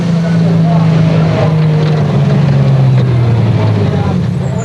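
A Nissan 3.5-litre V6 rally car engine drones loudly and continuously during a 2001 Sugarbelt 400 rally stage, its pitch sliding slowly lower, with a voice mixed in over the engine.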